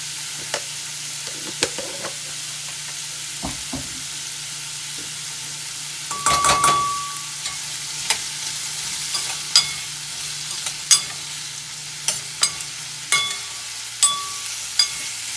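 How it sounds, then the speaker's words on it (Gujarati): Raw mango curry with masala sizzles in a frying pan as a spoon stirs it, giving a low steady hiss broken by a burst of scraping and repeated taps on the pan's rim. "અને સરસ રીતે આપણે બધું મિક્સ કરીશું શાકને"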